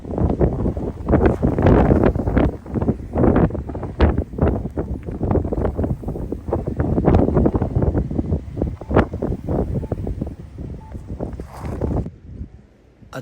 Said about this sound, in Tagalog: dito ko naramdaman ang malakas na hampas na hangin at bungos ng snow